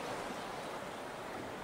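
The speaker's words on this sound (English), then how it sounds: "Listen to the waves." Ocean waves roll onto an island shore, a broad continuous rushing wash that swells slightly at the start before settling into a steady roar, with no voices.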